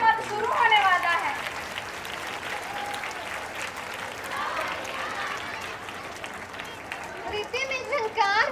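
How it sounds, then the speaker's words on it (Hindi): Audience at a school annual day celebration clapping loudly, a dense sustained wash of applause mixed with children's voices and chatter, steady throughout from within the crowd. "एक बार जोरदार तालियां बजा दें।"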